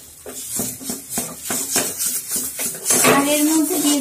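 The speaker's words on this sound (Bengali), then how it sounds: "পনিরটাকে আমি খুব ভালোভাবে মিশিয়ে নেব।" Paneer is stirred in a pan for a Bengali potol dolma recipe, with a utensil scraping and tapping against the pan in quick repeated strokes, close up, and a brief sizzle near the end.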